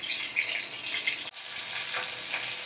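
Fish fry in oil in a kadai with a continuous close sizzle and crackle, briefly dipping once before the hiss resumes at an even level.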